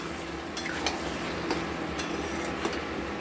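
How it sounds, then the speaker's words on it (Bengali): Chicken pieces sautéing over high heat in a pan with tomato and salt, a steady sizzle close by with a few clinks and scrapes of a stirring spoon against the pan, no talking. "আঁচটা হাই রেখেই আমরা কিন্তু এটা মাংসটাকে কষছি"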